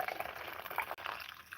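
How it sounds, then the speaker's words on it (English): Coffee pours into a cup in a quiet room, a soft, steady liquid trickle with gentle bubbling over a faint background hiss, heard close and alone for a brief moment. "pouring myself a coffee here"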